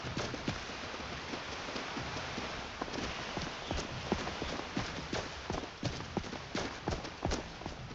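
Horse hooves clip-clop at a steady walking rhythm in the Skyrim video game, a dense run of sharp clicks over a soft ambient bed with no voices.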